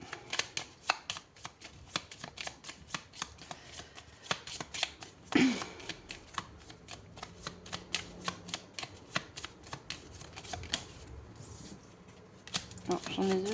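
A small deck of oracle cards being shuffled by hand, a rapid run of crisp riffling card slaps up close that continues steadily, with a speaking voice now and then in the background.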